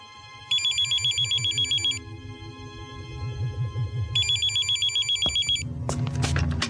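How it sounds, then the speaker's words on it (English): An electronic telephone ringtone trills in two bursts with a pause between, over a low background hum, followed by some clattering. "the phone call."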